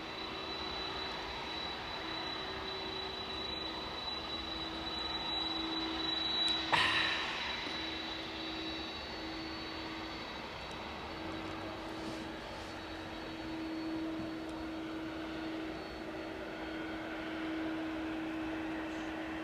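An aircraft at East Midlands Airport at night, a steady distant engine roar and hum that holds throughout with a slight swell, with a brief sharp click partway through.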